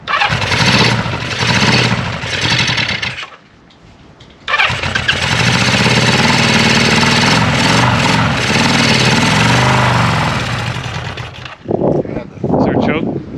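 A 1974 Honda CB550 motorcycle engine cranks and catches, runs loudly and close, cuts out briefly, then fires up again into a steady rumbling idle with revving, ending with a short stumble and restart.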